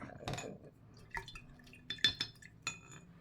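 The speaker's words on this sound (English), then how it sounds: "Put my brush over here in some water." A paintbrush dipped and swished in a container of water while crafting, soft scattered clinks and small splashy drips in a quiet room, close and faint.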